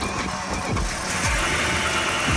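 A damaged BMW M3 engine, of a fragile and costly type, cranks and catches, then settles into an uneven, rough idle with repeated low thumps, close and fairly loud with no talk.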